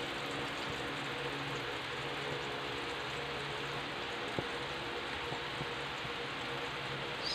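Rain falls steadily in the Philippines during the rainy season, forming a constant, even hiss with a few faint drips and taps standing out, with no talk.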